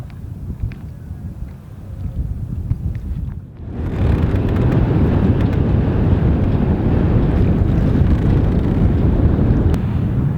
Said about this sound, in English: the wind's nicely picking up